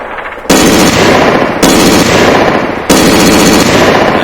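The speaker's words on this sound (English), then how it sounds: "when you shoot the gun without deploying the bipod" Machine gun in the IFA3 Arma game fired without its bipod deployed, sustained loud automatic bursts, three long continuous strings of rapid fire, close and dense, with no talking.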